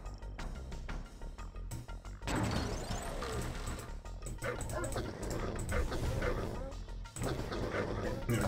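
An attack dog unit in the Command & Conquer video game barks and yelps in quick, faint bursts amid battle noise, with quiet talk in the background.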